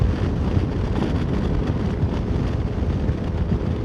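Wind buffeting a motorcycle rider at 62 mph on a road in Derbyshire, a steady loud roaring rumble with gusty low-end pressure and no talk.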